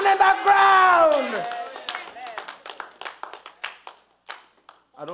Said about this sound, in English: I don't like that kind of clapping, you know.